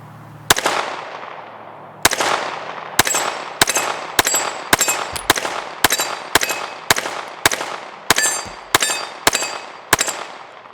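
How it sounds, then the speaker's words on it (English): A PSA Micro Dagger C-1 pistol fires about fifteen rapid shots at a 6-inch steel plate 15 yards away, loaded with 147-grain heavyweight bullets. Each loud crack is followed by a ringing metallic clang, with the last shots coming in a quick, even rhythm. "I'm shooting at a 6-inch plate, and we're about 15 yards out."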